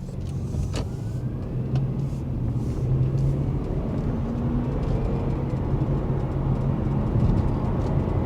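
A 2004 Honda Accord EX V6 with a naturally aspirated engine cruises along, its steady interior road rumble and engine drone heard from inside the cabin, with a few faint clicks and no talking.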